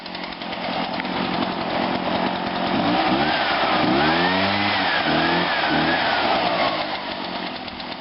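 A PB500 gas leaf blower runs loud and close, its engine droning steadily with a brief rise and fall in revs in the middle, heard alone without talk.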